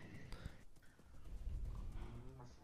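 Horse snorts and clip-clopping hooves from the Minecraft video game, faint and brief, heard under players talking.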